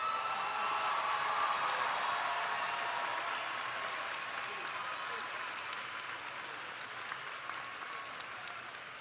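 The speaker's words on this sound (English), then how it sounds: "Please give our graduates of 2026 another round of applause." A crowd at a high school graduation ceremony applauds the graduating class, broad sustained clapping that stays dense and loud and slowly eases across nine seconds.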